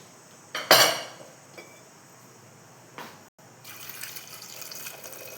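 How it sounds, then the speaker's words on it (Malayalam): Water is poured into a pressure cooker while making a cucumber curry with mango. A short, sharp splash comes first, then a fainter trickle and a steady, close pour toward the end. "അപ്പോൾ ആവശ്യത്തിനുള്ള വെള്ളം ഒഴിക്കട്ടെ."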